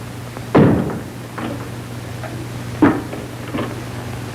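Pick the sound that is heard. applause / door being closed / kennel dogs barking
door being closed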